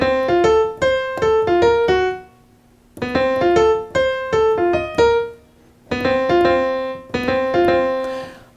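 Solo piano plays a theme in three clear, repeated phrases of short, punchy notes separated by brief pauses.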